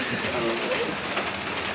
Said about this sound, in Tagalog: tumila yung ulan